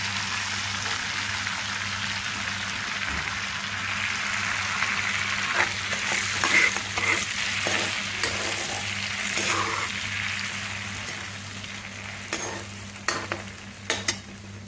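Cumin seeds sizzle in hot oil for pav bhaji, a steady crackling fry close up that builds to sharper pops and spatters toward the end, with no talking.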